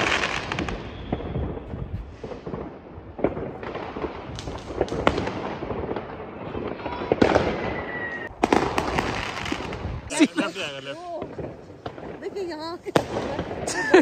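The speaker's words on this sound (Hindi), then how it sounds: "यहाँ से भी आवाज़ें आ सकती हैं अभी भी पटाखों की" New Year fireworks and firecrackers going off outside on a street in Germany, with repeated sharp bangs, crackles and whistling rockets near and far, under someone talking.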